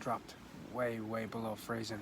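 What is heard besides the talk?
No everyday noises stand out.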